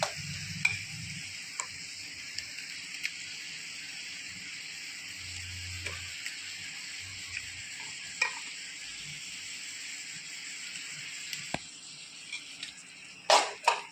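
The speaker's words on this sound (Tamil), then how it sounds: "இப்போ நம்ம அரைச்சி வச்ச அந்த வெங்காய பேஸ்ட்டு வெங்காய தக்காளி மிளகு பேஸ்ட்டையும் அது கூட போட்டு நல்லா வதக்கணும்" Onion, tomato and pepper paste sautés in oil for a fish curry, giving a quiet, continuous sizzle with occasional light ticks and a few louder clatters near the end.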